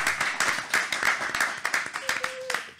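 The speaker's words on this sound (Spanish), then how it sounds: "Un fuerte aplauso para cerrar esta ¿eh? jornada." Applause from an audience at the close of an academic conference session in Spanish, a modest burst of fairly sparse claps heard up close that thins out toward the end.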